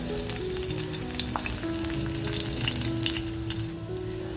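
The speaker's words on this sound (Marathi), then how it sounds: "तेल छान तापल्यानंतर बघा, लसूण जी चिरून घेतली आहे ती लसूण टाकते" Chopped garlic hitting hot oil in a kadai produces a steady, close crackling sizzle with small pops, with faint background music underneath.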